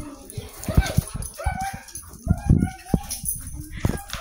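A frightened dog in a hallway whimpers and gives short yips and barks, uneven and close by, with a person's coaxing voice and footsteps or thumps mixed in.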